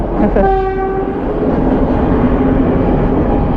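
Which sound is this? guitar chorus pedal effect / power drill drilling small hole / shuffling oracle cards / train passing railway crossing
train passing railway crossing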